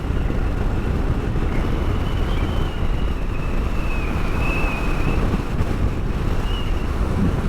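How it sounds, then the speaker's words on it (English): Steady roar of wind buffeting the microphone over open Australian grassland, constant and loud, with a faint thin whine drifting above it. "because of these open spaces, it gets very windy as well."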